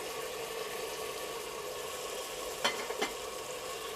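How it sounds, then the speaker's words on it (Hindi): Tomatoes and green chili frying in a pan for chicken biryani, giving a steady, moderate sizzle with a couple of brief clatters of stirring near the end. "इसको थोड़ा सा हम फ्राई कर लेंगे"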